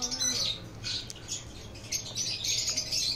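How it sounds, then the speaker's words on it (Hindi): Breeder birds in a colony squawk and chirp in busy overlapping bursts, fairly close and steady, with a low hum running underneath. "अब ये देखें बर्ड्स कैसे कॉलोनी में जो है वो इसको एंजॉय कर रहे हैं।"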